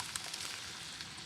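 Tomatoes hitting a hot pan for a chickpea and pasta dish: a loud, steady hissing sizzle close up, with brief crackles and pops throughout and no talking.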